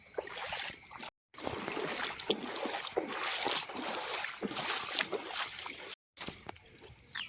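A raft glides through floodwater covering a road in a flooded area, producing steady, close sloshing and lapping water with a couple of brief dropouts and no talking.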